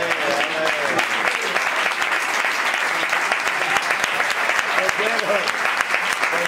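An audience applauds a flamenco singer with steady, dense clapping throughout, while a voice speaks over the clapping at the start and near the end.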